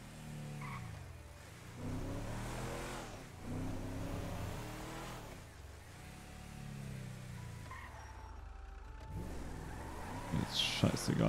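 A car is driven in a GTA roleplay game, its engine rising and falling through several revving surges with a faint tire squeal near the end, under quiet talk.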